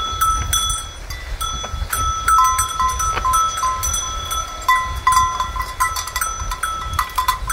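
Cowbells clank irregularly on cattle moving around a rural farm, the metallic clatter steady and fairly close across the whole stretch, with shuffling and background farm noise underneath.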